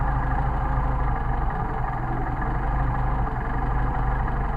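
A Mercedes 190SL engine idles on Solex carburetors with the linkage disconnected so each carburetor runs independently, producing a steady, loud low rumble that carries on unbroken and close, with no talking.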